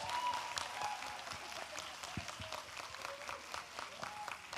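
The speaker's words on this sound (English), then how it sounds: "Can we just have a final round of applause for our fantastic panelists?" An audience applauds panelists at a conference hall event, steady soft clapping from a crowd heard at a distance and fairly quiet throughout.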